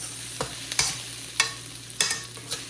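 Chopped onion frying with salt in a pan for street-style veg Hakka noodles, with a spoon scraping through it in sharp strokes about every half second over a low, steady sizzle.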